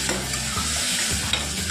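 Rice being stirred in an oiled pan with turmeric and salt, giving steady scraping strokes of a spoon over a soft continuous sizzle. The strokes come close and fairly loud, roughly every half second.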